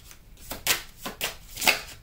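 Tarot oracle cards from a Gods and Titans deck being shuffled, three or four quick riffling bursts spaced about half a second apart, close and fairly quiet, with no voices.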